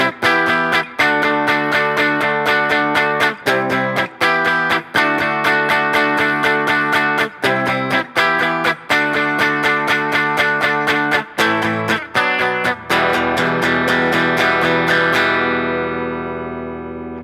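An electric guitar through distortion plays a song's chord progression with steady strummed chord hits, and the last chord rings out and fades.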